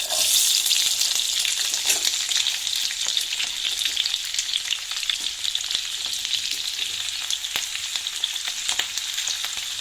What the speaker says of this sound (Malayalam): വറുത്ത് കോരിയ അതേ എണ്ണയിലേക്ക് നമ്മൾ വെജിറ്റബിൾസ് ഇട്ട് വഴറ്റാൻ പോവാന്ന് കേട്ടോ.